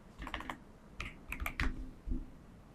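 Keys clatter on a computer keyboard at close range in several short bursts of quick taps separated by brief pauses, with no talking.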